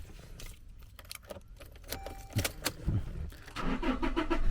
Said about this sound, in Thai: เดี๋ยวมาสตาร์ทรถกันหน่อยเนาะ